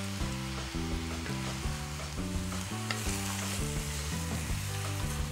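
Pork for Taiwanese meat sauce frying over high heat with garlic, giving a steady hiss that sits under loud, continuous background music with a stepped melodic line.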